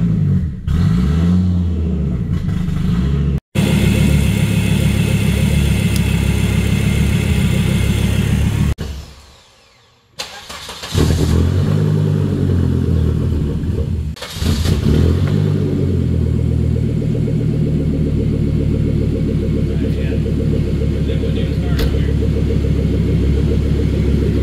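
A Volvo V70R engine runs at a steady loud idle, stumbles and dips briefly when given throttle, then revs back up and holds a strong, rumbling drone, heard close with no talk.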